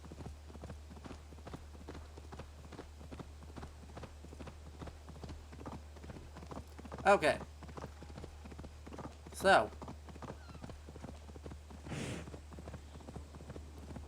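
Horse hooves clip-clop at a steady rhythmic pace in the video game Assassin's Creed Valhalla, set in Viking-age England, continuous throughout with brief louder bursts and a little speech.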